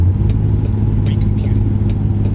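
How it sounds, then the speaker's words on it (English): A truck engine in a truck driving game drones loud and steady at low pitch, a close continuous rumble. "That engine sound has changed."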